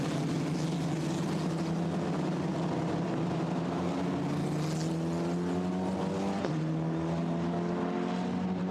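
Formula Renault race cars on a Hungarian circuit, a high-pitched engine drone that rises steadily through the gears, with an abrupt drop as the driver shifts, heard alone without voices.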